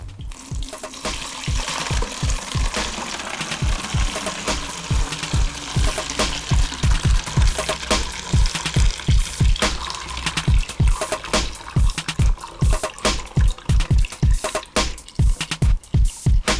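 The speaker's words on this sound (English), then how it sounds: "I'm just gonna hold it while I pour this." Liquid C-41 color film developer is poured from a container through a funnel into a one-liter developer bottle, giving a close, steady gurgle with rapid rhythmic glugs as air bubbles back through the funnel, with no talking.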